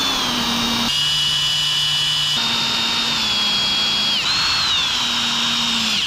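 Loud, steady whine of a power drill driving a screw into a fishing kayak hull, its pitch dropping and rising several times as the motor loads and speeds up.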